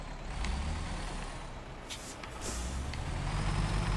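A truck engine in SnowRunner strains in a steady low rumble while loaded with medium logs, with a few sharp hissing bursts and the drone swelling louder toward the end.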